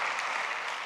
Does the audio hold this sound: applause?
yes